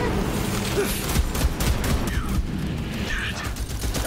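Chaotic gunfire in the Borderlands 3 shooter game, dense overlapping shots and booms forming a continuous loud barrage with game voices mixed in.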